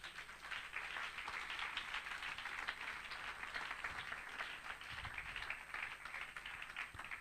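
Applause and cheering from a church congregation, a dense, steady wash of clapping and voices holding at an even level for several seconds, with no talk on top.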